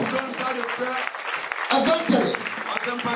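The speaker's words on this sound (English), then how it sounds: "We stand in ovation and a clap offering unto God." A church congregation applauds and cheers in a lively, sustained mix of clapping and raised voices, with talk running through it.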